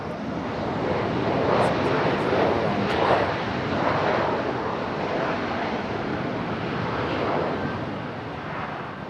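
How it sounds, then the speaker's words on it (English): An Airbus A319 airliner on the runway at Raleigh-Durham International, a broad roaring rumble of jet engines that swells and slowly eases, heard at a distance with a windy, washed quality. "A319 is going to come off the runway really early, isn't it?"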